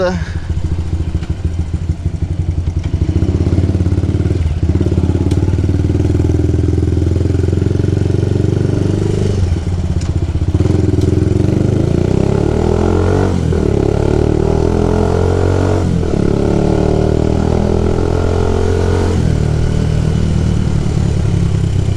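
A Bajaj Rouser 180 motorcycle engine drones steadily while riding on Metzeler Sportec Street tires, with slight rises in pitch as it speeds up, loud and close throughout.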